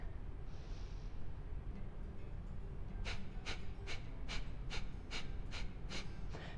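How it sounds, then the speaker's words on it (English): A run of about eight short, sharp exhaled breath bursts in a quick, even rhythm follows a single softer inhale, close and fairly quiet, as in a forceful yoga breathing exercise. "as you breathe out, we're gonna do short bursts of breaths out"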